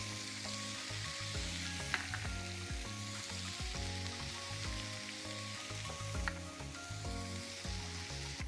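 Herbs hit browning garlic in a hot pan, giving a steady, close sizzle and crackle with faint stirring scrapes and no voices.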